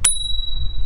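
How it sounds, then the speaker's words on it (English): A single sharp ding from the handlebar bell of a Reid E4 Plus electric scooter, with a bright ringing tone that lingers and decays slowly over low background rumble, no talk. "We all know the most important thing about any electric scooter is the bell"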